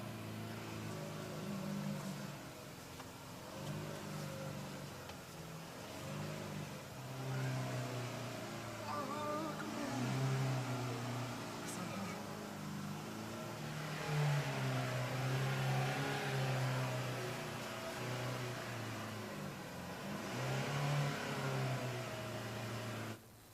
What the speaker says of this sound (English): And so here's Bledjaw driving.